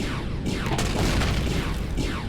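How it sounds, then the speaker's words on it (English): Laser turrets firing at a base in Empyrion Galactic Survival, a dense continuous roar of blasts and impacts that stays loud and close throughout, with no pause. "The lasers are now going to try and shoot through the base to the other turrets."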